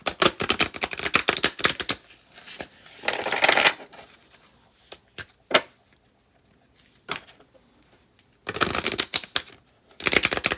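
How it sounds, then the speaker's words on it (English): Angel Answers oracle cards are shuffled in quick riffling bursts, separated by quieter pauses with a few soft taps and clicks. "Think of your question as I shuffle the Angel Answers deck"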